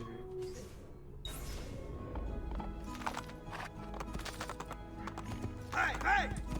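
A horse's hooves clip-clop and a brief whinny rises in the video game Assassin's Creed 2, rhythmic hoofbeats at moderate distance with a voice speaking over them.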